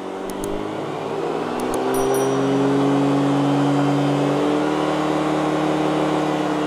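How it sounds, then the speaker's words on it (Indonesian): A Yamaha Nmax Turbo scooter engine revs hard at high throttle, a loud, steady droning whine that climbs in pitch and holds near the microphone, with a few light clicks at the start and no talk. "Oke, jadi misalkan gua gas tinggi nih ya"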